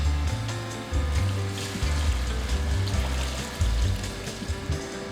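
Chicken broth poured into a pot while braising short ribs after a wine reduction, a steady liquid splash and trickle with gurgling low tones, close and continuous.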